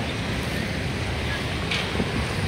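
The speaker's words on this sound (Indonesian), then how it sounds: "Kondisi pintu air mengalir lancar, deras, air mengalir." Swift, steady rush of river water pouring through a sluice gate on the Karangsatria river during normalisation works, a continuous loud broadband roar with wind buffeting the microphone and no break throughout.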